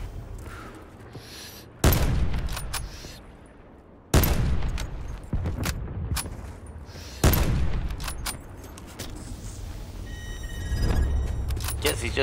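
Bursts of gunfire in Call of Duty Black Ops 4 crack out in three or four sharp, loud volleys a couple of seconds apart, with rattling tails and background ambience between them.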